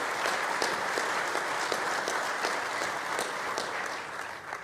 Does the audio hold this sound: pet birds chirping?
no